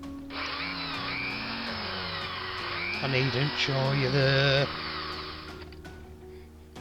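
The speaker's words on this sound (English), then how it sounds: "And here we are, we're drilling this one." A power drill whirs and whines into a die-cast metal Matchbox Dodge Challenger toy car, its pitch shifting as it bites and then stopping, with someone talking over it.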